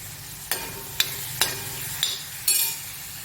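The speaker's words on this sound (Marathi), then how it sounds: "आता डाळ टाकू आता आपण डाळ टाकतोय" Dal being tipped into mixed vegetables sizzling in a pan for a dhaba-style dill greens dish, a low steady fry with about five sharp bursts of louder sizzle and scraping as it goes in.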